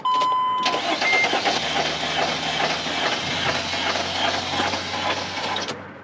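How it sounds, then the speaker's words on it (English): A car engine cranks and catches near the start, then runs loud and close for several seconds with a steady rumble, with a tonal beeping at the very start. "And then we start the car?"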